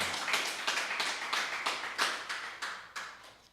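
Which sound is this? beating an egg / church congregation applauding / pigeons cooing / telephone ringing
church congregation applauding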